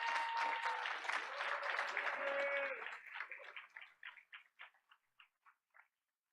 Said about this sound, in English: Rich Imbriani certainly deserves another round of applause